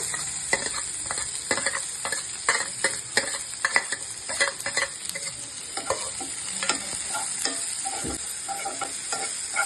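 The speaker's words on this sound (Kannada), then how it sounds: "ಇವಾಗ ನೋಡು, ಇದು ಆನಿಯನ್ ಚೆನ್ನಾಗಿ ಫ್ರೈ ಆಗಿದೆ ಅಲ್ಲ" Finely chopped onion frying and being stirred in a pan for palak paneer, with a loud continuous sizzle and rapid, irregular scraping taps of the spatula close by, and no voices.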